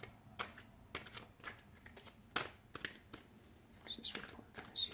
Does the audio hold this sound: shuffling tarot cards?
yes